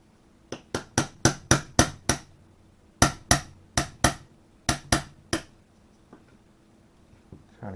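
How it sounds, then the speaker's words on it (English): A hammer strikes the side of a table during work on a Spanish FR-8 rifle, a series of about fifteen sharp, close knocks in quick runs separated by short pauses. "Trying to keep this from falling on the floor as I'm hammering on the side of the table."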